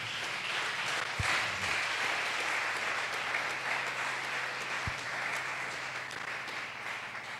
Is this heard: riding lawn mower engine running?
no